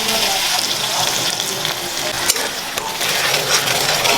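Sesame paste tossed into a pan of fried onions, sizzling loudly and steadily with scraping stir noises throughout, no talking.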